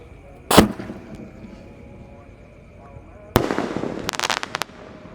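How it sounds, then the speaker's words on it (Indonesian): Bima Sakti Roman Candle firework at night: one sharp loud burst, a quiet gap, then a second loud blast followed by a quick crackling rattle of smaller pops. "Selanjutnya di sini ada Bima Sakti Roman Candle. Ini meledusnya 2 kali ya, di bawah dan di atas."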